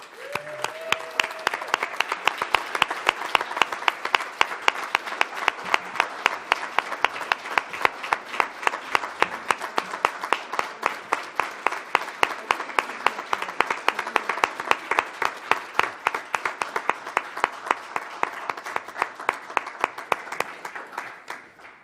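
A long, sustained ovation at a literary prize ceremony, with the audience settling into rhythmic, synchronized clapping whose regular beats hold steady and loud throughout, a faint voice briefly heard at the start.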